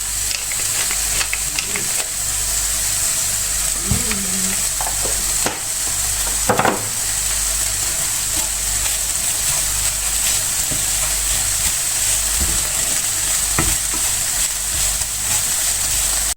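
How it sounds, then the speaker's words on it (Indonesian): Meat frying in a pan gives a steady loud sizzle and hiss that runs throughout, with a few faint knocks and stirring clatters and no talk. "gorengin daging."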